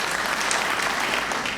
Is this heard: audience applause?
yes